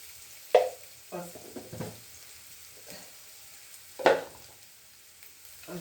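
Stirring ganga fish curry with turmeric and salt in a frying pan: a few scattered scrapes and clinks of a spoon against the pan, with a soft sizzle underneath.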